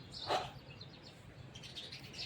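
Sparrows chirp in brief, high bursts while eating bread crumbs in the morning, one clearer call near the start and fainter twitters later over soft outdoor background noise.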